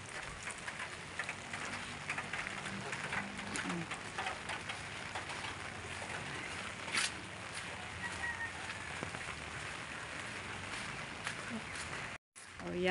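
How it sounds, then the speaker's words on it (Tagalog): Light rain falls steadily in an outdoor Filipino setting on an early morning, a continuous soft patter with geese or fowl honking faintly in the background and people talking now and then. "Kita niyo po umuulan. Pero hindi naman masyadong kalakasan."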